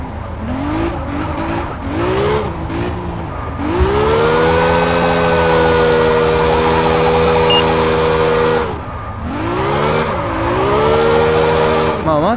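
Engine revving and tyre squeal from a Scirocco drifting in the mobile game Car Parking Multiplayer, a sustained loud engine drone that rises and dips as the car slides, with short squealing bursts.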